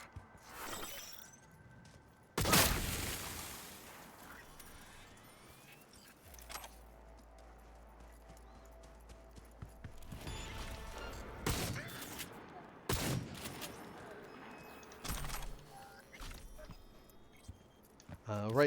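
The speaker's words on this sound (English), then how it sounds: "Right now, I'm using the shotgun partially because it's wonderful at eliminating the enemies" Shotgun blasts in the Cyberpunk 2077 video game: several sharp, loud bursts spaced irregularly over quieter game noise, with a person talking throughout.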